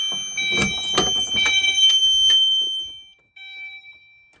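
A security system chime rings out in a sustained tonal pattern with clattering handling noise, fades away, then a second shorter chime tone sounds after a brief silence.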